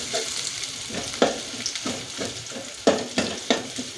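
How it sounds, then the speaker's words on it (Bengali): Chopped onion, garlic and bay leaf fry in hot oil with a steady close sizzle, and a spatula stirs and scrapes the pan in rhythmic strokes throughout. "তেল গরম হয়ে গেছে, এখন আমি পেঁয়াজ কুচি, রসুন কুচি, তেজপাতা এগুলো দিয়ে একটু ভেজে নেব।"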